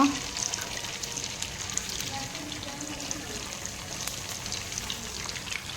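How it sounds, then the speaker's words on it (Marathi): Cumin seeds fry in hot oil in a kadai, giving a steady, dense crackle and hiss that carries evenly through the whole stretch at moderate loudness. "इथं पण इथं तळणं चालू बघा असं गोल्डन ब्राऊन होईपर्यंत असं तळायचं आहे"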